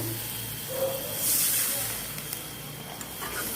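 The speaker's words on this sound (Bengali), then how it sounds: "এবার জল ঢেলে ঢাকা দিয়ে দেবো" A short, loud hiss of water hitting a hot pan of Bengali puti fish curry, swelling to a steamy sizzle and then fading back to a low simmer.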